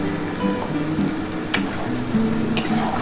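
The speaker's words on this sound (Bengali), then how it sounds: "এবার আমি মশলার জলটা বন্ধুরা দিয়ে দিচ্ছি" Spice water goes into a pan of frying potato, paneer and capsicum curry, keeping up a steady, close sizzle and bubbling with a couple of brief sharp ticks.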